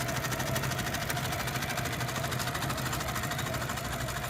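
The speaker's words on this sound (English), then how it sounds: "And it's going to start sewing now." A long arm quilting machine stitches a traced pattern, producing a steady, continuous mechanical hum and rapid needle chatter at an even rhythm, close and constant throughout.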